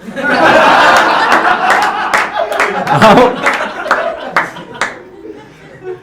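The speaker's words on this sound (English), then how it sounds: "Round of applause for Saad as well." An audience at a magic show applauds a performer, loud clapping that fades into scattered claps with laughter and chuckles mixed in, ending in a few isolated claps.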